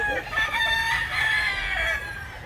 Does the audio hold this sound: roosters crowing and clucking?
yes